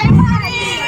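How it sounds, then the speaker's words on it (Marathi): A loud, brief burst of cheering and shouting rises from a lively audience that includes children's voices, with a whistle-like tone threaded through the crowd noise. "काय मस्त शिट्टी होती ना, एकदम मजा आली की नाही?"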